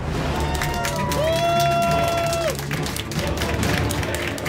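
A large crowd at a StarCraft 2 WCS Premier League match cheers and applauds steadily throughout, under a brief whooshing game effect.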